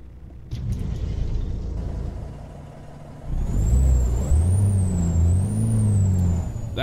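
Detroit Diesel 60 series truck engine on a custom Peterbilt in American Truck Simulator, a low diesel idle that steps up into a louder, deeper rumble with a rising and falling whine and an air-brake hiss.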